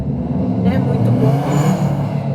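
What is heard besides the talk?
car passing with a loud roaring exhaust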